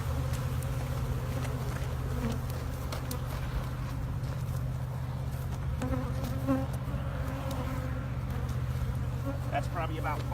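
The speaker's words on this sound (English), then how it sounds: "we're just going to knock all these bees out" Honey bees buzz around a hive box set in grass during a queen replacement, a steady, loud, continuous drone with an outdoor background and occasional faint higher sounds.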